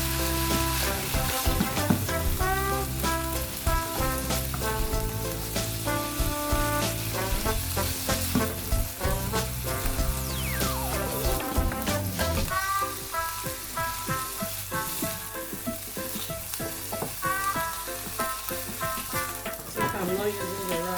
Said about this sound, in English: My shrimp has been stir frying for 3 minutes now.